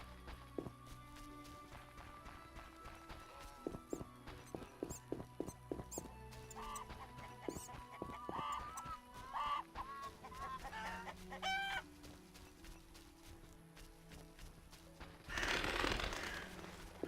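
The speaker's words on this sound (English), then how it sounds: "Chickens!" Chickens cluck and squawk in a close, busy flurry of short calls, with scattered rustling and a burst of noise near the end.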